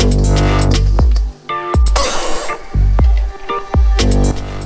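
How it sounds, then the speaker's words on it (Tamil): Onions fry loudly in a pan with a constant, intense sizzle, broken by several sharp clangs of a utensil against the pan. "வெங்காயம் நல்லா ஃப்ரை ஆகிடுச்சு."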